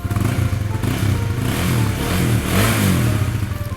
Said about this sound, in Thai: มาฟังเสียงท่อเดิมกันเลย อ่า สตาร์ทติดทีเดียวรู้เรื่องเลยนะฮะ เสียงนุ่มๆเงียบๆ เลยนะ